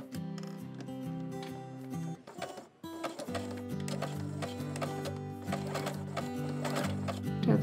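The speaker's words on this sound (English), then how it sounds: "I'll be sewing these two elastic ends together with zigzag stitch." A sewing machine runs a zigzag stitch joining two elastic ends for a blouson waistband, a steady rapid mechanical chatter with a brief pause near the middle before it resumes close and continuous.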